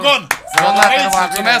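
Studio audience applause on a Romanian talk show, a scatter of claps and brief cheering mixed in under close, lively voices shouting and talking.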